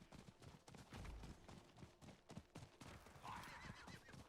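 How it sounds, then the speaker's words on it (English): A horse racing in a video game gallops with rapid hoofbeats and lets out a neigh, faint and fairly quiet, with game effects mixed in. "I'm gonna beat this other horsey in the race."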